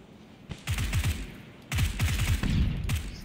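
Rapid bursts of automatic gunfire from PlayerUnknown's Battlegrounds, two long strings of close, loud rounds separated by a brief pause, each burst a fast rattling rhythm.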